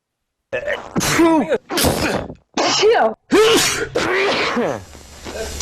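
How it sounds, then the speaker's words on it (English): A rapid series of about five loud, close sneezes, each a sharp burst with a brief intake of breath, separated by short gaps. "Here's the update to the sneeze montage."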